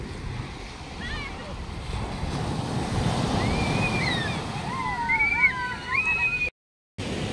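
Ocean surf at Vengurla harbour, Sindhudurg, rolls and washes steadily onto the shore, a continuous rushing roar with some wind, and bird chirps rising above it.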